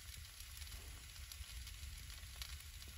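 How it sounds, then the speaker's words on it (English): Chicken sizzling in a pan on a camping stove in a van by a lake, a faint, steady crackling fry with soft pops and no talking. "Oh, you can hear that sizzling."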